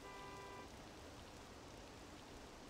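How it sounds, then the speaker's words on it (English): Steady hiss of rain falling in the video game Persona 5 Royal, even and continuous, with a brief faint tonal sound at the very start. "It's raining."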